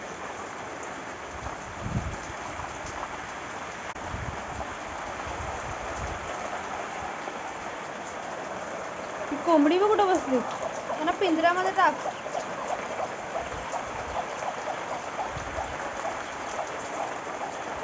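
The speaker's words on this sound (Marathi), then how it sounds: "डोंगरच दिसत नाहीत एवढा पाऊस आहे." A steady hiss of heavy rain fills the background throughout, with people talking over it now and then.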